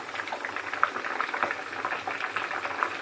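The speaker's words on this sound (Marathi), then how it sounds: "असं गॅस बंद करायच्या अगोदर ना हे बघा असं उकळी येते मग पाणी घातल्यावर" Ghee bubbling and boiling hard in a pan right after a spoonful of water is added, a steady close fizzing crackle with small pops throughout.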